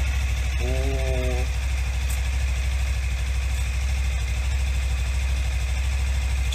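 A Suzuki V-Strom 250 motorcycle engine idles after a top-end overhaul, a steady close low throb throughout, with a brief voice early on.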